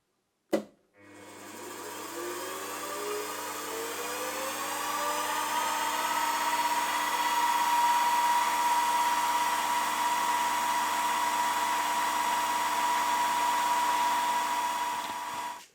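A number 36 tapping drill bores into a steel connecting rod for a Farm Boy hit-and-miss engine, a sharp start followed by a continuous, loud, high whine that holds steady for about fifteen seconds before cutting off.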